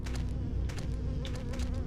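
Creatures with bird beaks and bat wings in Silent Hill 4 give off a steady insect-like buzzing drone, close and continuous, with fluttering pulses layered over a low hum.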